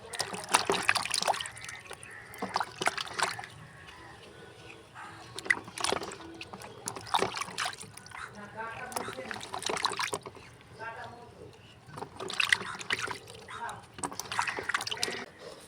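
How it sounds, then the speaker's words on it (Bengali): Mangoes are rubbed and rinsed in a basin of water, bursts of splashing and sloshing coming and going close by while a voice is heard at times. "আমগুলো ভালো করে কচলে কচলে ধুয়ে নিয়েছি দু তিনবার"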